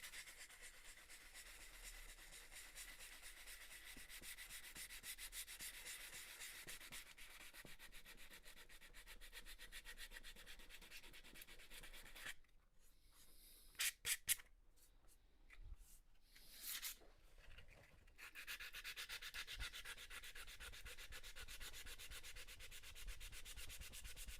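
Wood fretwork is rubbed with 240-grit sandpaper in steady back-and-forth strokes, a quiet continuous rasp that breaks off midway for a few clicks and light handling sounds before resuming.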